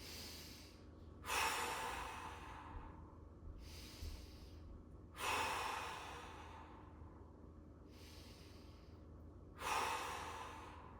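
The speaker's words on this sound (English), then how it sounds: "let's work the diaphragm just a little bit with 3 big breaths" Three big, deep breaths taken while holding a bridge exercise during a mobility session, each a loud close inhale-exhale whoosh spaced about four seconds apart, with quieter breathing between them and no speech.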